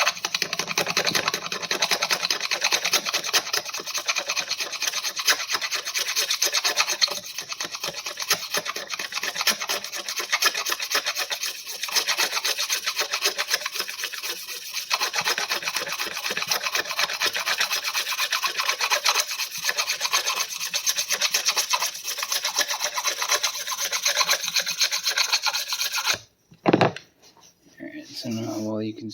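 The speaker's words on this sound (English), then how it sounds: "So most of that scraping noise you hear was the glue," A knife scrapes glue off an arrow shaft during fletching, making steady, close, rasping back-and-forth strokes that run continuously for almost half a minute before a short pause and a few knocks.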